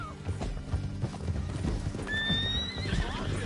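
A horse in Red Dead Redemption 2 clip-clops along at a quick pace with busy hoof beats, then lets out a high whinny in the second half, all over a dense background of game action.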